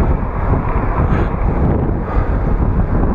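Strong wind buffets an unfixed clip-on microphone, a loud continuous low roar of gusts filling the whole stretch without letup.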